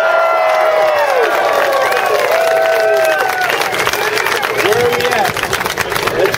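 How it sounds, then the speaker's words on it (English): A crowd claps and cheers for contestants at a professional hamburger eating championship at an outdoor festival, steady and loud throughout, with whistles and shouting voices rising over the applause. "Let's give them all a big round of applause"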